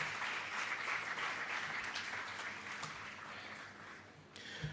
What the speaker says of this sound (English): a big round of applause for the NISH team for organizing all this